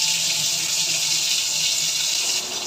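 Water runs from a tap into a kitchen sink, a loud close steady gush that continues without a break and eases slightly at the end, with no talk.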